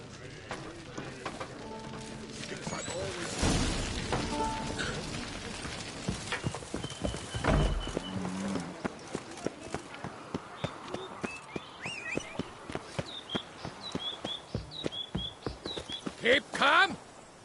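A horse gallops in the Witcher 3 video game, a steady fast clip-clop of hooves running for most of the stretch, with a brief whinny near the start and game music and ambience underneath.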